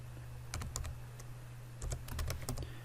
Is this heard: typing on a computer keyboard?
yes